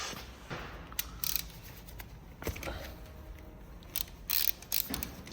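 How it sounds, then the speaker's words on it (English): Coolant expansion bottle cap being twisted open on an Audi e-tron front drive unit, a series of close ratcheting clicks and plastic creaks in short bursts over a quiet background. "Let's open the expansion bottle."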